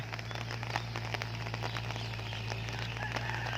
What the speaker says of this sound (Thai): ฝนตกนี่นะจ๊ะ